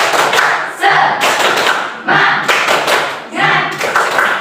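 A third-grade class claps a rhythmic spirit cheer together: loud bursts of many hands in a patterned beat, separated by short pauses, with children's voices chanting along.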